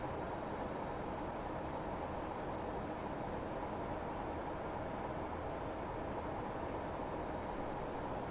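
A train rumbles steadily through a tunnel on the Huddersfield line, a dense, unbroken roar that holds at an even level with no voices.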